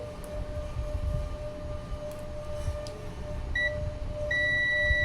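Continuity tester buzzer sounding on a pin of an air conditioner control board, a steady electronic tone that cuts in partway through over a low background hum and then holds continuously.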